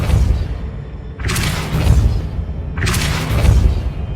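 Depulso spell cast in Hogwarts Legacy: two forceful whooshing blasts about a second and a half apart, each a loud burst with a booming thud underneath, over a low rumbling background.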